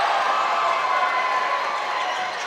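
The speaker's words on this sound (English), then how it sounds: "the crowd has all of a sudden come alive again for Moycullen" Basketball crowd in an Irish arena roaring for home side Moycullen, a steady, dense wash of cheering and shouting that holds at full volume throughout, with no single voice standing out.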